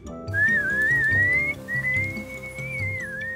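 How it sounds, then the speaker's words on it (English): A person whistles a continuous wavering melody while herding cattle on the African savanna among Maasai herders, the tune carrying over steady background music. "I constantly whistle, so the wild animals know I'm around."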